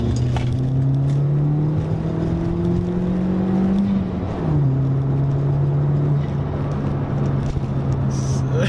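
A car drives along a road in a steady engine drone, rising in pitch as it accelerates through the gears, with a brief dip around a gear change before the note settles and climbs again.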